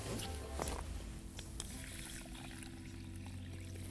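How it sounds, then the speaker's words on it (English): Water is poured into a can of fishing pellets, a steady trickling pour close by, quiet and continuous over a faint outdoor background. "Just top the can up with water."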